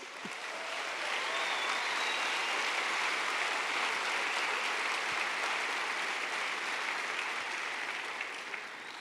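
A church congregation claps together in a long, even wave of applause, many hands sounding at once, steady and moderately loud for around nine seconds.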